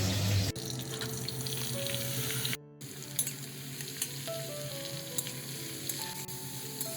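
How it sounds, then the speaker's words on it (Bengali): Beetroot fries in a pan with a steady close sizzle, broken by a brief gap, then sizzles on under scattered clinks and faint background tones. "প্রথমে বিটটা ভেজে নেবো"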